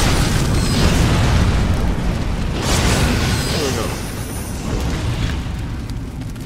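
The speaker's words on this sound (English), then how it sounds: "there was a guy with a fucking barrel of explosion" An explosive barrel blowing up in the video game Nioh, a loud booming blast with rumbling bursts that slowly fade under continuing game noise, with speech mixed in.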